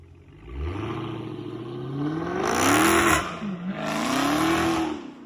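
A car with its muffler deleted revs hard twice, close by, its loud raw exhaust note rising and falling in two long surges.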